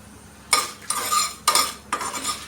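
Spatula or spoon scrapes and clatters against a pan in four distinct bursts as ingredients fry in a little oil for Andhra-style sambar, close and clear with no talk.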